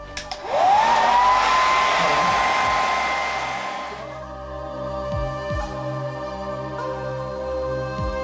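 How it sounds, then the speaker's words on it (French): A hair dryer blowing on paint starts with a rising whine, runs loud and steady for a few seconds, then drops to a quieter hum. A few faint clicks sound near the end. "on peut le faire avec le sèche-cheveux."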